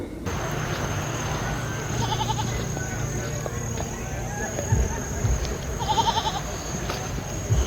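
Goats on a farm bleat a few times, fairly close, amid people talking, footsteps and scattered rustling outdoors at night.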